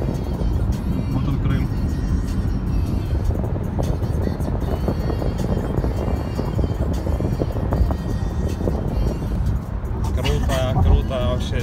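Cars speeding along a bridge road to Crimea at around 90 km/h, overtaking one another, with a steady, loud rush of road and engine noise throughout and a faint voice underneath.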